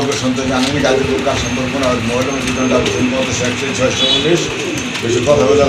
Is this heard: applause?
no